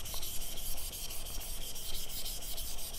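The flat back of a chisel is rubbed on a sharpening stone in quick, even back-and-forth strokes, a close, soft gritty scraping with no speech.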